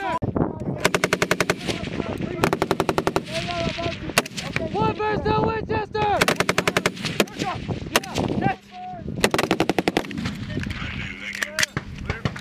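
Rapid machine gun bursts and single rifle shots crack out loudly and repeatedly during a Marine platoon attack exercise, the firing coming in dense rhythmic strings with brief pauses and shouted voices heard between volleys.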